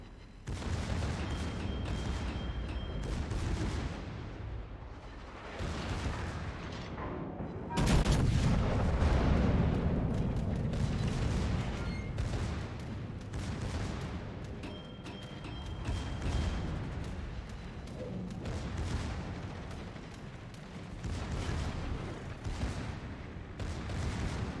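Naval gunfire from enemy ships in a warship video game: a dense, continuous barrage of booming artillery shots and rumbling impacts, loud and sustained throughout, with a heavier burst partway through.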